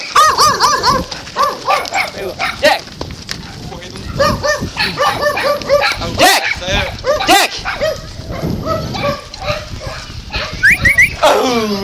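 A young farm dog barks in repeated bursts while cattle are moved between farms through a town, the barks close and loud, mixed with people shouting calls around the herd.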